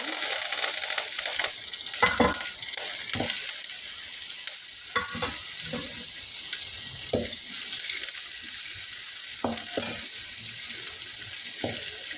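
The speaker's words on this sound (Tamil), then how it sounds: "கடுகு போட்டுலாம் இந்த வரமிளகா போட்டுலாம் இந்த கருவேப்பிலை" Mustard seeds, dried red chillies and curry leaves crackle in hot oil as a tempering, with a constant bright sizzle punctuated by scattered pops and stirring knocks, loud and close.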